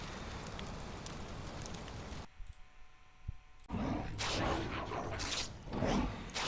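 Rain falling in the Valheim video game, a steady broadband hiss of drops on surfaces that drops out briefly midway, then returns with gusting swells.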